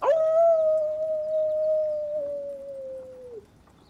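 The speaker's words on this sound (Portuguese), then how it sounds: "Vocês ouvem um uivo." A single long wolf-like howl sound effect during a tabletop Pathfinder RPG session: one sustained, loud, steady tone that slowly sinks in pitch over about three seconds and then cuts off, with no talking over it.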